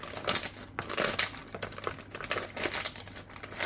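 Cured resin pieces are peeled from a thick plastic mold, making close, continuous crinkly plastic crackles and snaps in quick irregular bursts.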